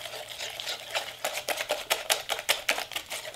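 Softened cream cheese being mixed into a veggie fritter batter of grated sweet potato and carrot in a bowl: a quick run of soft, rhythmic scraping and tapping strokes, close and fairly quiet, with no talk.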